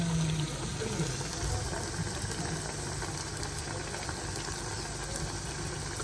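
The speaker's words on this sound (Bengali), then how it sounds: "একটু তেল দিয়ে দিলাম কড়াইয়ে এখন একটা করে দিয়ে দেবো" Lentil fritters with pumpkin flowers sizzle in hot oil in a wok, giving a steady, dense frying hiss that runs the whole time at an even level, with no talk over it.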